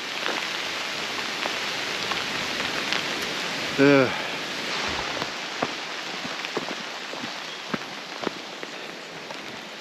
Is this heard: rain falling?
yes